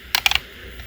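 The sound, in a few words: GameCube controller stick clicking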